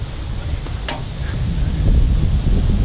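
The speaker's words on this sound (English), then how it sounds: "It's windy as hell out here." Strong wind buffeting outdoors at a bush campsite beside a caravan after overnight rain: a steady, loud low rumble of gusts across the microphone, swelling slightly toward the end.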